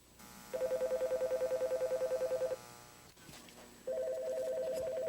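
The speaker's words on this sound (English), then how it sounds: "The phone's ringing, but there's nobody here to answer it." An old landline telephone rings indoors in a 1985 sitcom scene, one long pulsing electronic ring burst followed by a pause with faint room sounds, then a second ring beginning.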